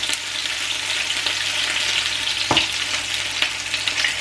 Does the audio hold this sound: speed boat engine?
no